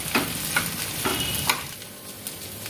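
Chicken stirred and fried in a pan with mashed boiled potato, a steady close sizzle broken by several scraping stirs at a regular pace, no voices.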